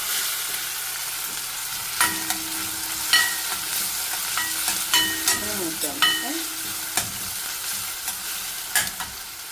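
Chopped onion and crushed garlic frying in a pan for kovakkai gravy, a steady sizzle under repeated scraping stir strokes and light utensil clinks, close and clear with no talking.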